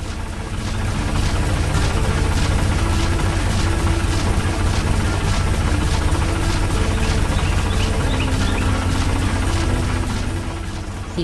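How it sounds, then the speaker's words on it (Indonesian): Busy factory machines and a fast-moving conveyor belt in an animated cartoon make a loud, continuous mechanical drone, a heavy steady hum with whirring overtones that never lets up. "Suara mesin dan gerakan yang dinamis."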